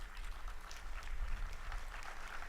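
Audience applause after a tribute to Woody Guthrie, a soft steady patter of clapping from a distant crowd lasting a few seconds with no voices.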